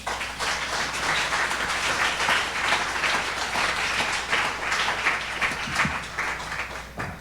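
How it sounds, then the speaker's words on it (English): An audience at a poetry reading event applauds, a full, continuous round of clapping that holds steady and fairly loud for about seven seconds before thinning out at the very end. "Please give a round of applause for Nick Flynn."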